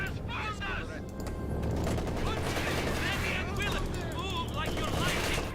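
Flak anti-aircraft fire in the Company of Heroes 2 video game, a dense continuous rattle of rapid shots and mechanical clatter filling the whole stretch, with voices talking underneath.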